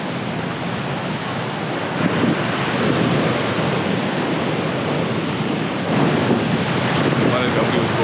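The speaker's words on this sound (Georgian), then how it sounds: "მოვედი ჩანჩქერთან." A waterfall in the Svaneti mountains rushing with a loud, steady broadband roar heard up close, slightly buffeted by wind noise on the microphone.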